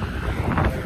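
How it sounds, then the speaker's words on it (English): Strong wind buffets the microphone in a steady low roar for a moment, with no voices. "Very windy out today."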